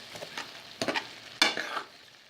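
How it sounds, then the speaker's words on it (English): Chicken cooking in a hot pan for Puerto Rican–style chicken cheesesteak pastelillos, giving a soft, steady sizzle with a few louder stirring bursts, heard alone with no talking. "the chicken is cooking"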